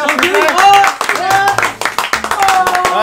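A few hands clap briefly for a guest at a French podcast table, heard under continuous loud talk and laughter from several people nearby.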